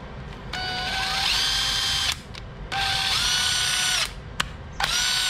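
A cordless drill/screwdriver, model 6507, runs in three high-pitched whining bursts with a rising tone as the motor spins up, separated by short pauses with small clicks, close and loud.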